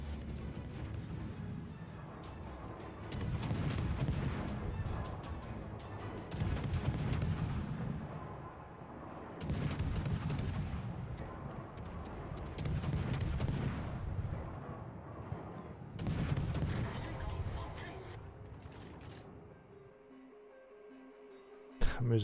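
Naval gun shells fire in World of Warships, booming in heavy, rumbling salvos roughly every three seconds over a continuous low drone of the game's battle audio, with quieter, sharper reports near the end.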